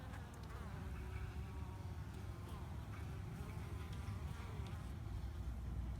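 Worker bees buzz steadily around a hive on an overcast day as they bring in pollen from sparse watermelon blooms, a continuous drone close by under low background rumble.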